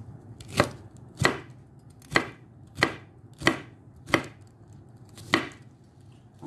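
A knife chops stacked fruit into quarter-inch pieces on a cutting board, seven sharp, evenly spaced thunks ringing out alone at a steady rhythm, close and clear.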